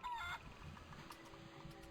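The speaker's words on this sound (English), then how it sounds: "Look at all these chickens." Chickens in the video game The Curse of Monkey Island give a short, faint burst of clucking that is quickly gone, leaving quiet game ambience.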